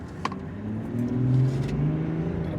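A car speeds up during a brake test, its engine whirring and rising steadily in a smooth, moderately loud drone with no voices over it.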